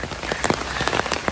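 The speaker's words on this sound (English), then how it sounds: "it's raining so badly now. Can you hear that? It's really raining badly." Heavy rain falling outdoors, a close, continuous patter with sharp individual drops splashing against a surface in quick irregular bursts, heard alone without speech.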